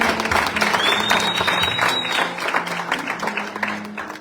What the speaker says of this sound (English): May we kindly just give our beautiful worship team a round of applause.